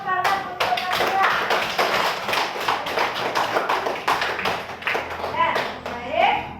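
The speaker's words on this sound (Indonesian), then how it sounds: "Tolong beri tepuk tangan untuk Nabila." A group claps steadily for several seconds, a dense patter of many hands, fairly close, with a few voices mixed in.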